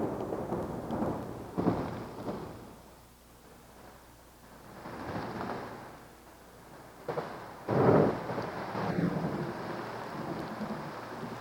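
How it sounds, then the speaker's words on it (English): Thunderstorm breaking over open desert, with rumbling thunder swelling and fading in waves and a couple of louder crashes near the end, heavy rain hissing underneath throughout. "Accompanied by thunder and lightning, the rain begins."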